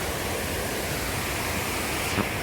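Water pours steadily down Khaiyachhara waterfall in Chittagong, a dense, even roar that holds unchanged from start to finish with no voices over it.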